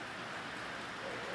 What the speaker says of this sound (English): Since it's raining, I'm definitely not taking off for a ride.